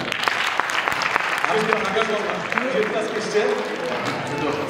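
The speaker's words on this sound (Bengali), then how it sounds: "কিন্তু তাদের জন্য একটা হাততালি" Audience clapping at a Bengali school's Victory Day cultural festival, a broad, steady patter of many hands that holds for nearly five seconds with voices murmuring underneath.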